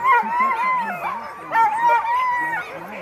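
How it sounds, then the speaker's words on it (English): Sled dogs at the start area of a sprint race yip, whine and howl excitedly in high, wavering cries, close and continuous, with people talking underneath. "Being talked over by his dogs."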